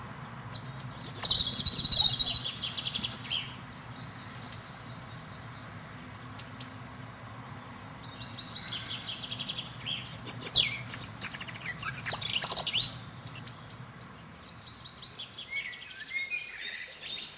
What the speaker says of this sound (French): votre rouge-gorge,